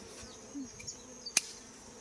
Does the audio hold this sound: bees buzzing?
yes